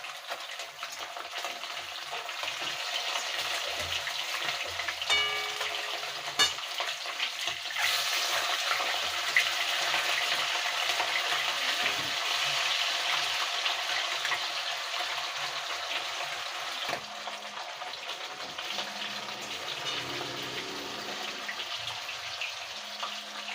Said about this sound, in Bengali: লাল লাল করে একটু ভেজে নেবো মাছটা